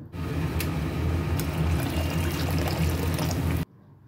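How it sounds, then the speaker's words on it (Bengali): Hot water pours steadily into a pan of cooked-down curry spices for a banana-flower kofta curry, a continuous close gushing splash that stops abruptly near the end. "এবারে দেব গরম জল।"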